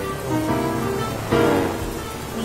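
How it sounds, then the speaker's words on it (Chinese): Rain falling in an animated show, a dense steady patter of drops that swells louder partway through, close and continuous with no voices. "切，还真下雨了呢"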